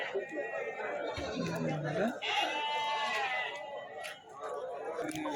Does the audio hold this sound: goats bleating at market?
yes